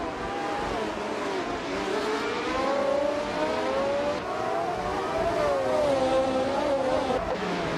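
Engine of a 1971 Matra MS 120B race car in a racing video game, a sustained high whine rising and falling in pitch as it revs, with other cars droning around it, steady and fairly loud.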